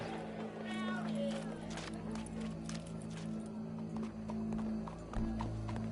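Horse hooves clip-clop in Red Dead Redemption 2 gameplay, a steady trotting beat under game ambience and a low hum, with faint voices and occasional snorts mixed in.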